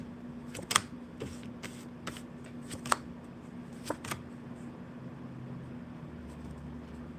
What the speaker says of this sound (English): I did mix my cards up upside down and right side up.